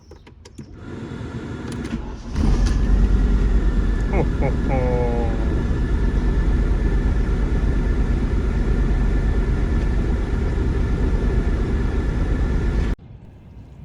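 A warm 1983 Audi S5 Coupe engine cranks briefly, catches and settles into a loud, steady idle that holds for about ten seconds before cutting off, with a man briefly exclaiming over it.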